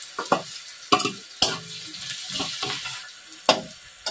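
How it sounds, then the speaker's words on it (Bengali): Crushed garlic frying in a pan, heard as a low sizzle broken by sharp scraping stirs of a spatula at irregular intervals, close and clear with no talking. "এবারে রসুনটা একটু ভাজা হয়ে যাক"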